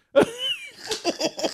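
A single sharp sneeze bursts out near the mic, followed by a few short breathy, throaty sounds.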